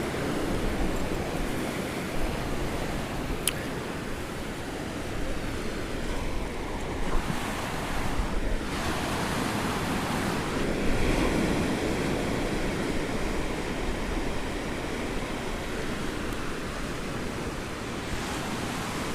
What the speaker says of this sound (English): I let you listen to the ocean from time to time